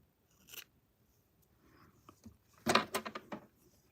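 Scissors trim hair up close in a quiet room: a few isolated crisp snips, then a quick cluster of sharp cutting clicks near the end.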